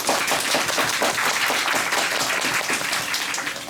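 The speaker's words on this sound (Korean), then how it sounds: "촬영하시면서 그분들을 위해 박수 한 번만 부탁드리겠습니다." Sustained audience applause at a final-performance curtain-call stage greeting for a musical, honoring the backstage staff; dense, steady clapping from a large crowd fills the whole stretch at even loudness.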